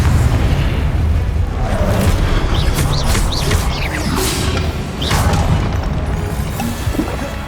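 Confringo spell explosions from Hogwarts Legacy during the Pensieve Guardian boss fight in Rackham's Trial, a dense run of booming blasts and crackling bursts, loud and continuous.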